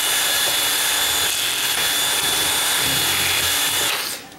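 Loud, close whine of a power drill drilling a deadbolt strike plate continuously for several seconds with gritty grinding, then cutting off abruptly at the end.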